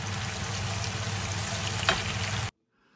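Tripe frying with onion, garlic and dried chili, a steady close sizzle for about two and a half seconds before it cuts off abruptly into near silence.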